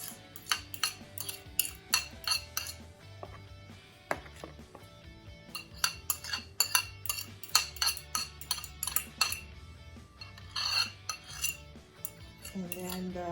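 A spoon clinks and scrapes against a bowl as mashed bananas are stirred into apple for a banana apple cake, a close, irregular run of sharp metallic taps and scrapes with no talking.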